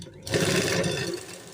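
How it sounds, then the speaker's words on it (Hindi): A sewing machine starts up and hums through a short run of stitching along the folded sleeve of a lined kurti, steady and close. "अब हम अपने स्लीव की जो है फोल्ड करके स्टिचिंग करेंगे"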